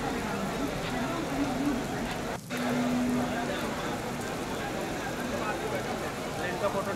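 Heavy monsoon rain falls steadily over Mumbai, a dense even hiss filling the whole stretch with a brief dip partway through, and a faint tone heard under it.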